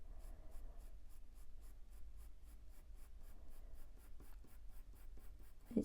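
A pencil draws a Cavalier King Charles spaniel on paper, making rapid, rhythmic scratching strokes close up and steady throughout, with a soft bump at the end.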